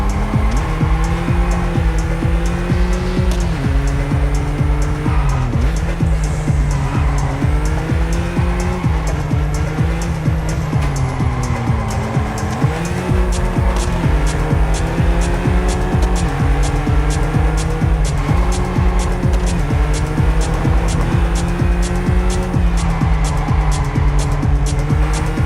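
Race car engines roar continuously with shifting revving pitch and squealing tires in Test Drive Unlimited Solar Crown, during a BMW anniversary live event; loud and steady throughout, with no talk.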